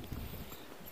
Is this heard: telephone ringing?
no